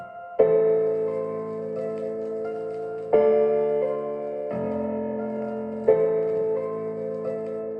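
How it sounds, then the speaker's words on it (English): Piano chords struck one after another, each sustained and slowly fading before the next, four in a row at an even, unhurried pace, clear and close. "there comes the piano"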